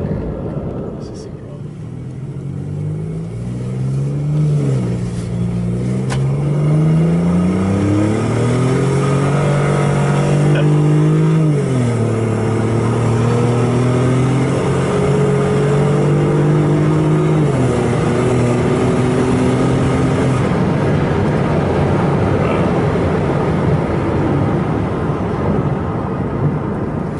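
A BMW i8 accelerating on ice on winter tires, its engine note climbing in steady harmonic sweeps, dropping back and rising again through gear changes, loud and close inside the cabin.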